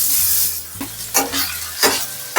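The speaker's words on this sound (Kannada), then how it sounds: "ಪ್ಯಾನ್ ಒಳಗೆ ನಾವೀಗ ಪನ್ನೀರ್ ಫ್ರೈ ಮಾಡ್ಕೊಳ್ಳೋಣ" Paneer cubes frying in about two spoons of ghee in a pan, a loud close sizzle broken by several scraping stirs of a spoon, with no voices.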